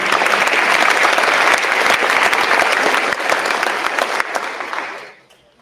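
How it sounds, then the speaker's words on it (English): Loud, dense round of applause from an audience at a high school signing day, many hands clapping close and steady before tapering off and fading to quiet at the end. "Big round of applause."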